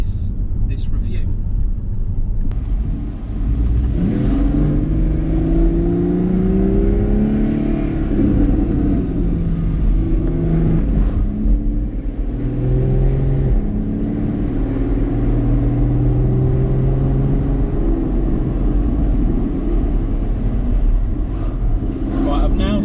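Porsche Cayman S 981 engine revving as the car drives, the rising and falling pitch sweeps rolling on continuously under steady wind and road noise, loud and close from inside the cabin.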